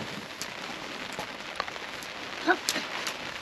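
Light rain patters on a surface outdoors in Bosnia, a soft continuous hiss with scattered droplet ticks and one sharper tap, faint and without voices.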